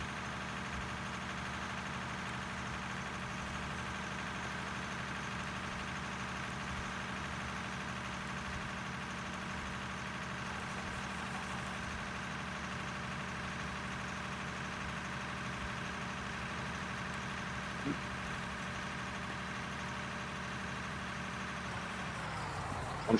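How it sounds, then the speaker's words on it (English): Broken-down heavy equipment engines in the mining game Out of Ore rumble together in a constant, steady low drone, like several machines idling at once, with no pauses. "You can hear all the engines being turned on that are all broken down every time it breaks down."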